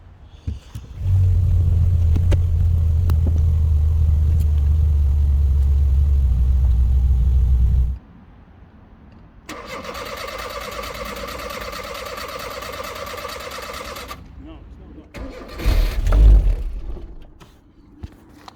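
A petrol car engine that has run out of fuel cranks over quickly and loudly for several seconds without catching, then falls silent, followed by other quieter mechanical noise and a brief thump.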